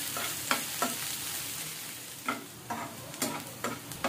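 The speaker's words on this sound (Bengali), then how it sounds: "এবার মিডিয়াম আঁচে আমি নাড়াচাড়া করে সবগুলো উপকরণ ভেজে নিচ্ছি" Chopped garlic and onion fry in a pan over medium heat, a constant close sizzle broken by regular scraping taps of a spoon as they are stirred.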